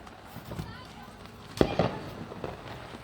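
Firecrackers popping during New Year celebrations near a home, a cluster of sharp cracks mid-clip with a few fainter bangs after, under background chatter.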